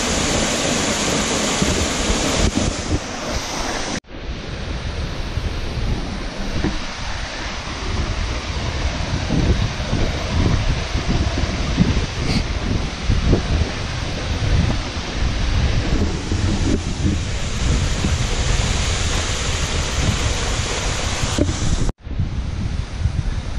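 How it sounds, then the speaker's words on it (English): Triple Falls on the Buffalo National River roars in a steady, loud, broadband rush of falling water that continues almost unbroken, heard close with no talking. "I can already hear the falls."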